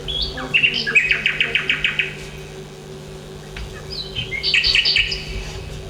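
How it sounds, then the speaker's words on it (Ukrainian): A nightingale sings rapid trilled phrases in two bursts separated by a short pause, over a steady low background hum. "соловейко співає"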